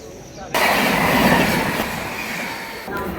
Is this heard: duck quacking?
no